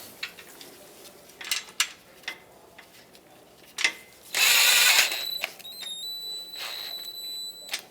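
Scattered ratchet clicks tighten the radiator mounting bolts on a 2014–2021 Mazda 6, close but quiet, broken up by a loud burst of whirring and a few faint high metallic tones.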